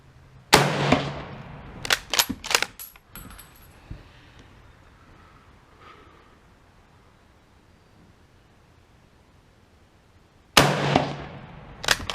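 A Gewehr 1888/05 rifle chambered in 8mm Mauser fires: a sharp close shot followed by a quick cluster of bolt and metallic clicks, quiet room noise, then another loud report at the end.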